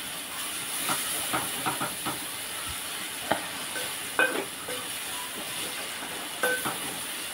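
Potato and tomato pulusu curry, with cumin and coriander powder added, sizzles in a pan under a continuous soft hiss. Scattered light scraping clicks of a spoon stirring break through now and then.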